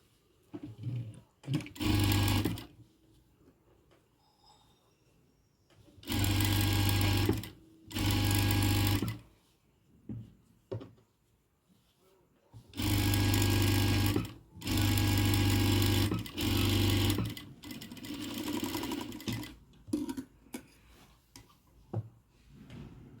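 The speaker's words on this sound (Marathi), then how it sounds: "आपल्याला इथे दापटीप टाकून घ्यायची." A sewing machine runs in short and long bursts, stitching a puffy-sleeve blouse, loud and close, with quiet pauses and faint handling noises in between.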